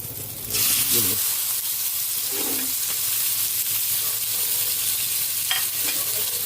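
Marinated pork sizzling and frying in a hot pan for a pork menudo, a steady hiss throughout with brief stirring scrapes and light clatter, fairly close and loud.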